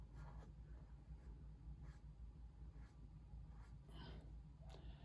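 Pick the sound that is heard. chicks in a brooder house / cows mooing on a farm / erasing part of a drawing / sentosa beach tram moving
erasing part of a drawing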